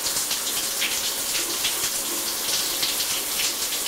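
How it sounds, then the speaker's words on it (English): A home shower runs with a steady close spray of water, a continuous hiss with small splashes as someone stands under it. "She loves the shower with Daddy."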